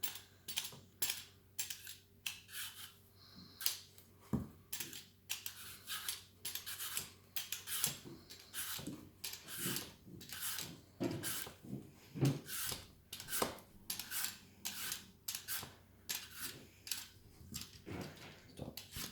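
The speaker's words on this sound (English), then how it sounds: "So what we want to do is dissect them and get rid of the core" Apples are cut and cored by hand, a steady run of short scraping, rasping knife strokes repeating in quick rhythm close by, with faint thumps of fruit on a board and no talk.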